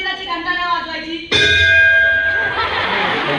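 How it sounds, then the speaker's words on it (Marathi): A temple bell rings in one sharp, bright strike that leaves a long metallic ring fading away. Voices can be heard before and around it. "आणि निकिताचे बाबा, तुम्हाला माहिती ना मी शिकवत असताना मंदिराची घंटा नाही वाजवायची."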